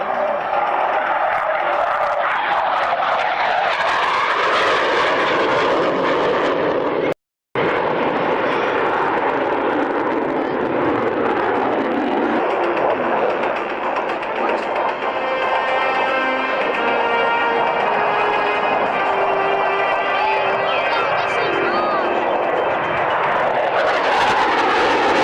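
A military jet makes a low pass at an airshow, its loud roaring engine swelling and sweeping in pitch as it approaches and passes overhead, with a brief cut midway, then a sustained whine and rumble as it moves on.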